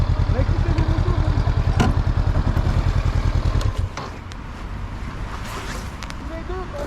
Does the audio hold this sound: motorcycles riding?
yes